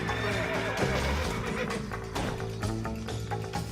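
A horse in the video game Red Dead Redemption lets out a loud, close whinny over soft clip-clop hoofbeats and game ambience.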